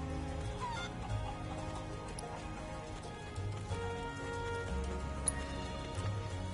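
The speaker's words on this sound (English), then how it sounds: "I can't keep up with a flock of chickens." A flock of chickens clucking in the video game Final Fantasy 7 Rebirth, scattered soft clucks alongside clip-clop footsteps and faint background music, quiet and steady throughout.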